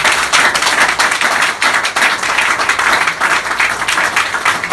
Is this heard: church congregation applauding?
yes